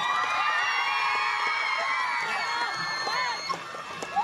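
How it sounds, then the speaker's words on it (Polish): A festival crowd, children among them, cheers and whoops in a continuous bright wash of shouting, loud and fairly close, easing slightly toward the end with a few sharper yells. "zróbcie brawa Piotrkowi"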